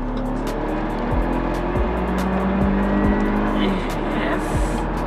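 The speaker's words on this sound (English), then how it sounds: "let's feel how it handles around the corners" A rear-wheel-drive Mercedes C200 CGI hums through corners, its engine note rising and falling with gear changes over loud steady road and tyre roar heard from inside the cabin.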